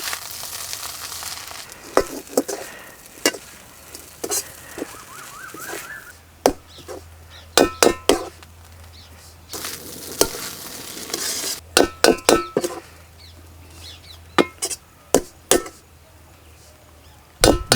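Street-style double egg chicken fried rice being stir-fried in a pan over high flame, with a soft sizzle under repeated sharp clanks and scrapes of the spatula against the pan in irregular bursts.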